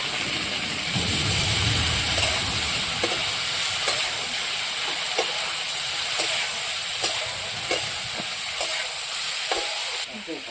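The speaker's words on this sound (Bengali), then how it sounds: "প্রথমে আমি ফুলকপি ভেজে নেব। ফুলকপি কিন্তু আমি হালকা সেদ্ধ করে নিয়েছি। হালকা একটু হলুদ দিয়ে দেব।" Parboiled cauliflower frying in oil with turmeric in a pan, a continuous broad hiss of sizzling with periodic light scraping taps from stirring, fairly loud and steady throughout.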